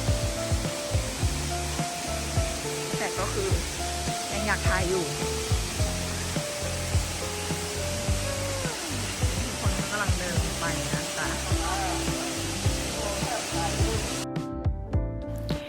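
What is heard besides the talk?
waterfall on a forest hiking trail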